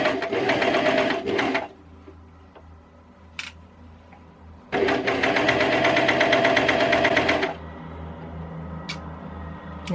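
A coverstitch sewing machine stitches through fabric in two loud, steady running bursts, with a quieter gap between them where it slows or pauses. No one speaks.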